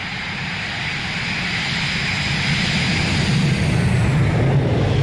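An Airbus A321's jet engines roar at takeoff thrust in a flight simulator, a loud, steady broadband rumble and whine that swells slightly stronger toward the end, with no talking.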